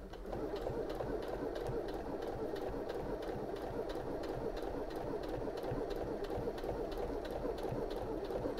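A Singer Heavy Duty HD6805C sewing machine runs steadily through a fabric join, a continuous fast mechanical whir with a regular needle tick, close and even throughout with no talking.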